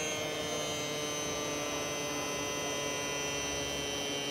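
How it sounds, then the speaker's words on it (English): A Mini Fumpa electric bike pump runs continuously, a steady, faint electric motor hum with a high whine, no pauses or voices. "Just push it on, press the button till the motor starts."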